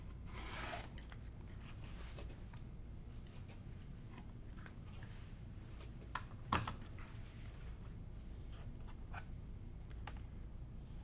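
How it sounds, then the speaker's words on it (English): Quilt fabric is cut with quiet, irregular snips and scrapes close by, with one sharper click midway and a low background hum throughout. "I'm going to just cut this little section out."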